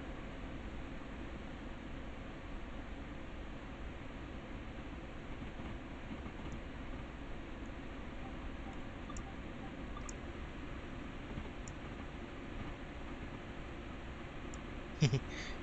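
Train wheels clacking over rail joints beneath a steady, loud rolling rumble, with faint clicks surfacing now and then.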